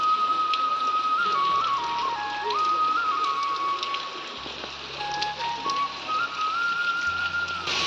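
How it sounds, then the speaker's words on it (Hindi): Heavy rain falls on a village, a steady dense hiss that continues throughout. Thin high whistling tones drift faintly over the downpour. "तो फिलहाल यहाँ एंता वर्षा हो"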